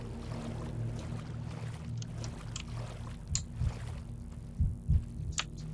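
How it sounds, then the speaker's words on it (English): Heartbeats in a video game thump low and soft in short irregular pairs beneath a steady low hum, with faint clicks scattered above. "I hear heartbeats."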